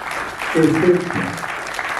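Audience clapping at a welcome gathering of artists in Mumbai, a short burst of applause mixed with voices talking over it.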